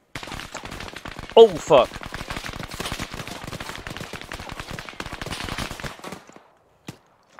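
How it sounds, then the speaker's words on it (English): Insurgents fire on a team in Arma 3: dense rapid gunfire crackles continuously, like bursts from automatic weapons, then stops abruptly. A man curses loudly partway through. "Got insurgents firing at us northeast."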